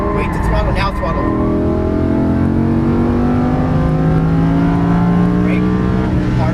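A Lamborghini Huracan LP610-4 accelerating hard on a track, its engine note climbing steadily through the revs, loud and close, while a coach's voice speaks over it.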